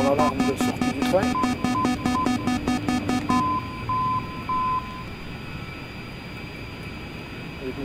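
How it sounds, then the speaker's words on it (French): A repeating beep-tone landing gear extension warning sounds in an A-10 flight simulator game. It pulses rapidly alongside other alert tones over a steady aircraft engine drone, then thins to a few slower beeps and cuts out, leaving the engine hum. "on entend l'alarme de sortie du train"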